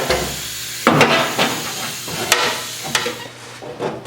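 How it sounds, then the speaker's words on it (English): Welding on a 1974 Triumph TR6 steel body panel, close crackling sizzle with sharp snapping pops in short bursts, no talk. "I'm gonna weld it here"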